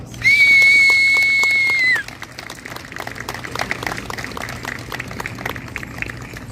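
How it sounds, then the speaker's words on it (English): A loud, sustained whistle blast sounds at a Gathering of Nations powwow, followed by scattered crowd applause and claps for the dancers, moderately distant. "Let's give them a wonderful round of applause."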